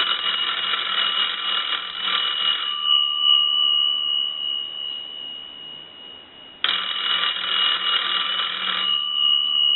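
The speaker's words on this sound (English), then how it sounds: "What we want to do now is ring the bells with the analyzer." A Stromberg Carlson wooden wall crank telephone's bells ring loudly in a long burst, driven by a test analyzer, pause for a few seconds with a faint tone lingering, then ring again.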